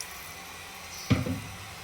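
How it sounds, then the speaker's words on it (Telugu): Water poured into a pan of egg curry gravy, a short splashing burst of about a third of a second that tails off quickly against a quiet room. "కొంచెం వాటర్ అయితే యాడ్ చేసుకున్నాను నేను"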